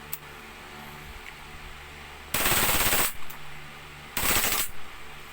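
WE IRex gas airsoft gun firing on full auto in two short loud bursts of rapid shots, separated by a quiet gap, with no talking.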